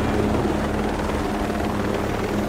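Helicopter in the video game Ghost Recon Breakpoint making a flyby, a steady loud rotor drone with continuous engine roar throughout, no talk.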